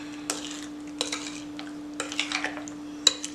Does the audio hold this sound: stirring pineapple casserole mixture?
yes